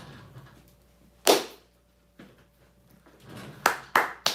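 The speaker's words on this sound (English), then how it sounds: "You gotta give him the claps, guys." Hand claps during a live stream Q&A: a loud single clap, a fainter one, then a quick run of three sharp claps close to the microphone over a quiet room.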